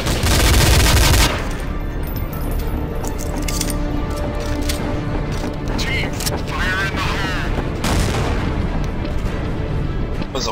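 A grenade blast in Counter-Strike: Source Zombie Escape on an Isengard map: a loud, dense boom in the first second, then sustained muffled gunfire and game noise with players talking over it.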